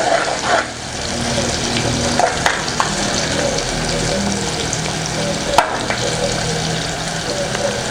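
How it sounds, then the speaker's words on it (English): Chopped onions fry in hot oil in a pot over a gas flame, giving a steady, loud sizzling hiss with a few sharp crackles and faint voices beneath. "Now we'll fry the chopped onions."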